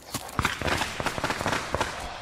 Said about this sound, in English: Welcome home, Shouts Shang over the noise of the firecrackers.